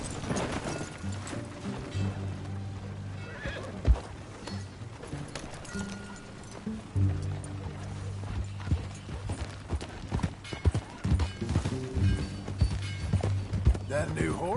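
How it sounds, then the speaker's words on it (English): Horse hooves clip-clop in a steady rhythm while riding in Red Dead Redemption 2, a continuous game soundscape with music and other game sounds layered over the gait. "That a new horse?"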